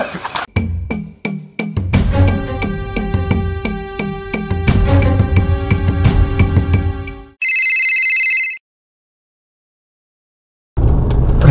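A mobile phone ringtone plays loudly in a village setting as a melodic, tonal tune. A brief high electronic tone follows, then silence before the sound returns.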